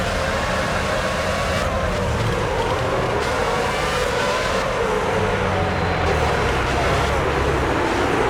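Formula 1 cars race in the PS2 game F1 06 at the China circuit, a constant loud engine drone with passing whooshes and shifting engine pitch, steady throughout and without talk.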